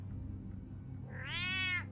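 A cat in the Batman Telltale Series video game gives one clear rising-and-falling meow, close and alone after a low background hum, no talk.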